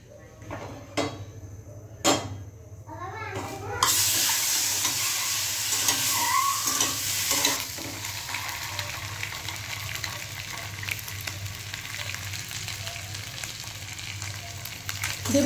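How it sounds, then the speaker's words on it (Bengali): Eggs frying in a home kitchen pan: a loud, steady sizzle starts a few seconds in and keeps going, with a few sharp clinks of a utensil against the pan at the start. "এবার ডিমগুলো ভেজে নেবো"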